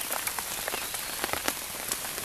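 Rain patters steadily on a tarp in the woods, a dense, even hiss broken by scattered louder drops, close and continuous with no voices.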